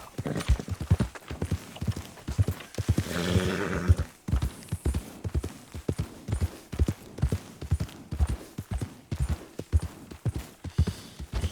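Horse hooves clip-clop in a steady walking rhythm throughout, with a brief whinny and rustling burst near the start, from a horse in the video game Red Dead Redemption 2; close and clear, no talking.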